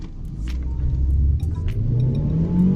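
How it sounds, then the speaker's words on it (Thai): Mercedes-Benz A200 AMG Dynamic sedan with a 163 hp engine accelerating hard from standstill in sport mode, a steady loud engine drone and rumble rising in pitch throughout, heard from inside the car without talk. "ตอนนี้เราจะมาลองอัตราเร่ง0ถึง 100 กิโลเมตรต่อชั่วโมงในโหมดสปอร์ตนะครับ"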